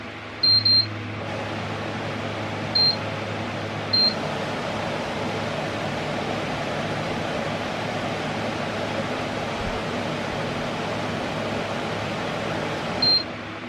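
A steady, even whooshing hum of a Honeywell CS10XE air washer climate unit running, broadband and constant throughout, with a few short electronic beeps near the start and end.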